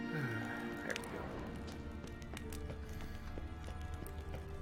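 Horse hooves clip-clop quietly in The Witcher 3 video game, a steady run of soft hoof strikes over a low ambient game soundscape with a faint whinny near the start.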